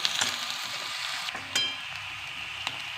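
Onion, green chilli and crushed garlic sizzling in a pan for fenugreek-leaf bhaji, a loud continuous frying hiss broken by a few sharp stirring clatters, no talk.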